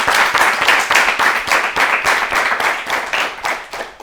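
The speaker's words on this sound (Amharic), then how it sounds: "አጨብጭቡለት በደንብ አድርጋችሁ" A studio audience at a children's television quiz show claps loudly and steadily for a correct answer, with dense, even applause that runs without a break.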